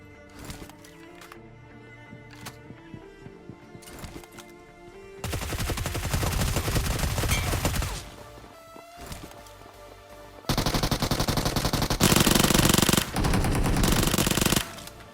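Free Fire gunfire, rapid automatic bursts that begin with sparse sharp shots and swell into long, loud, dense sprays, alternating between heavy volleys and brief lulls.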